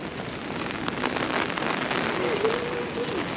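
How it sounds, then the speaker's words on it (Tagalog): Heavy rain falls steadily at the Chiang Kai-shek memorial in Taiwan, a dense continuous hiss of drops on hard surfaces with no pauses, close and even in loudness. "Grabe na ulan."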